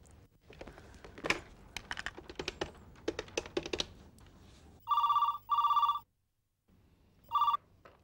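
An office telephone rings in bursts, three loud electronic trills after a stretch of quick keyboard typing, with a short silent gap between the second and third rings.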